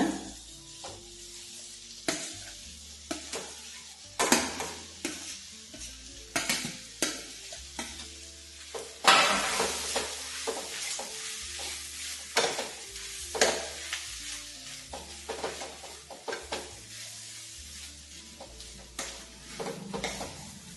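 Raw banana palya being stirred and mixed in a pan, irregular scraping and clattering strokes over a soft frying sizzle for a long stretch, close up with no voices.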